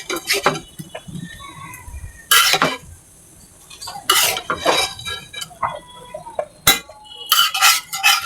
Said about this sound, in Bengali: এখন কুচুগুলোর মধ্যে মাছগুলো দিয়ে দিন